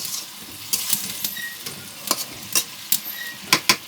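Rui fish curry with vegetables being stirred in a pan over a clay stove, with a steady sizzle and scraping strokes of the spoon at an uneven pace, close up and with no talking.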